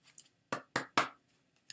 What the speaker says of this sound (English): So, one last shuffle for Sarah, who's listening.